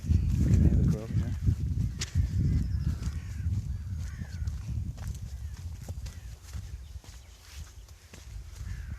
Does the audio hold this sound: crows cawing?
yes